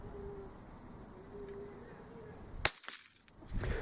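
A rifle shot fired through a Scirocco moderator, a single sharp crack partway through against outdoor background noise, followed by a brief decaying tail and quiet.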